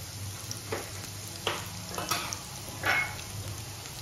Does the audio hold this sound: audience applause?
no